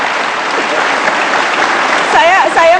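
A television talk-show studio audience claps for KH Mustofa Bisri, a dense, loud burst of applause that carries through the clip, with cheering or voices rising over it near the end.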